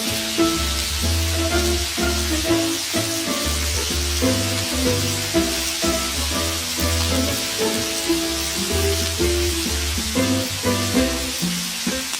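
Gopchang, beef intestines, sizzles steadily as it grills at a restaurant. The frying hiss is close and continuous under background music.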